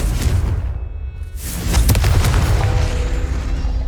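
Confringo fire spell going off in Hogwarts Legacy, a loud booming blast with a low rumbling body and a crackling burst mid-clip, no talk heard.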